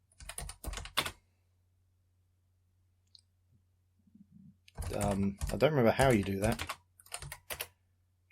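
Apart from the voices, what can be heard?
typing on a computer keyboard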